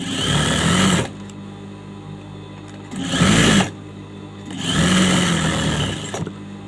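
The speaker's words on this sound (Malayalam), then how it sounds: "ഇതും സെയിം മറ്റേ പീസ് കട്ട് ചെയ്തതുപോലെ തന്നെ നമ്മൾ സ്റ്റിച്ച് ചെയ്തെടുക്കണം" Sewing machine stitching a piece of a chudidar top, running in three bursts of steady mechanical whirring separated by short pauses, loud and close with no talk.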